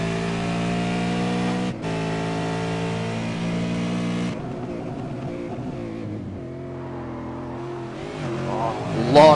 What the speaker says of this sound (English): let's listen to his throttle and his brake as he approaches the first chicane